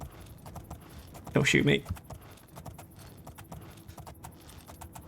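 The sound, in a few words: horse hooves clip-clopping in a video game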